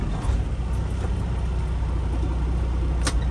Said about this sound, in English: Now I'm going to start my engine.